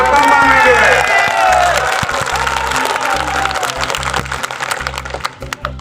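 A crowd at a BJP election rally claps and cheers loudly, shouts and whistles rising over a steady low hum, gradually thinning into scattered claps and voices.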